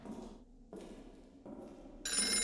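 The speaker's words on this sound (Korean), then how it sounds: "어 전화가 왜 울려?" A telephone rings in a haunted subway station in the Golgotha horror video game, sounding in repeated bursts separated by short gaps, with the last ring louder and brighter, over a quiet background.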